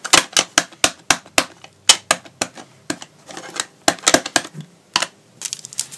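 Rubber stamps with a key pattern pressed repeatedly onto tissue paper laid over canvas, a quick irregular run of sharp close taps and thumps with brief pauses between them.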